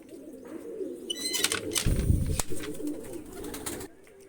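Pigeons coo in low, soft murmurs that swell in the middle, with a brief flutter of wings amid background noise.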